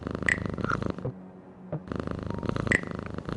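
Cat purring beside an open window on a quiet evening, a close, rhythmic rumbling purr in two long stretches separated by a brief soft pause, with faint high chirps mixed in.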